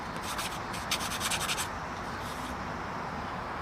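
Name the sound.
sandpaper polishing screw heads on an Elna Supermatic sewing machine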